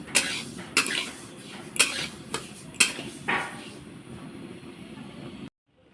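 Lentils frying in a pan, with a metal spatula knocking and scraping in roughly regular strokes over a soft, steady background hiss before the sound cuts out abruptly.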